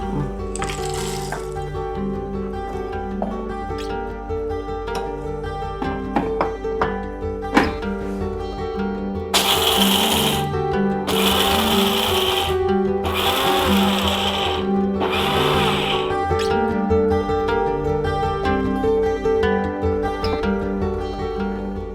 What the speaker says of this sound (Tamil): வறுத்த நிலக்கடலை இதை வந்து பொடி பண்ணிக்கணும்